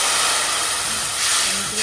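Loud, sizzling hiss of water added to a hot frying pan with cumin powder while cooking pangas fish with eggplant, continuous and bright, surging slightly near the end.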